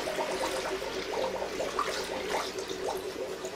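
Warm water at 60°C pours steadily into two tanks, a continuous splashing, gushing stream that stays close and fairly loud throughout, with no voices.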